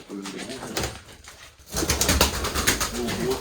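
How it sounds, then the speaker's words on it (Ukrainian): A carrier pigeon trapped inside a structure at a flooded quarry coos and stirs, its calls and faint wing movement heard close up alongside people talking. "Смотри, это почтовый голубь."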